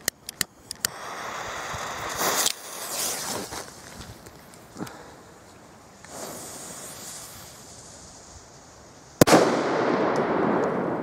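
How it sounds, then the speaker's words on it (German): La Bomba firecracker outdoors, a few small pops and a crackle, then a long hissing stretch before one loud close blast, followed by a noisy crackling tail and no talk. "So, wir fangen mit einer Bombe an."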